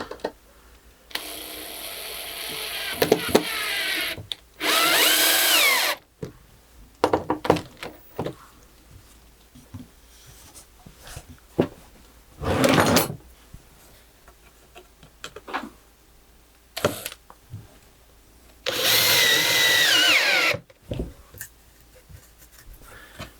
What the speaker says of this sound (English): A scrap piece of MDF, I'll just screw this down